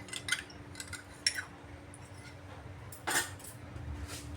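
A spoon stirring a custard powder mixture in a pot for sago pudding, a few separate metallic clinks and scrapes against the pot over a quiet background.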